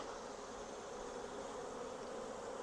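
Honeybees droning steadily around an open beehive as frames are worked, a dense continuous buzz close by with no voices.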